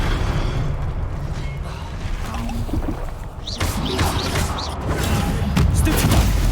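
Spell-casting impacts and magical bursts from Hogwarts Legacy combat, with booming hits over a steady low rumble, a few sharp whooshing zaps in the second half and a loud, busy game mix throughout.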